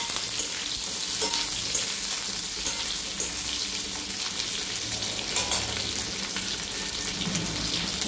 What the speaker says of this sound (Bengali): হালকা করে ভেজে নিলেই হবে।